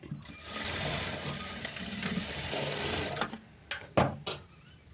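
A sewing machine runs steadily as it stitches a blouse seam, a continuous close whirr for about three seconds before stopping and restarting in short bursts.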